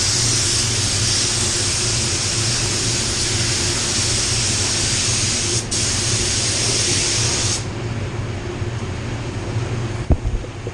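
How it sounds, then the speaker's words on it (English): A steady, loud hiss of a paint spray gun running continuously for several seconds, then cutting off near the end with a small clack. "I will show you how the gun sprays"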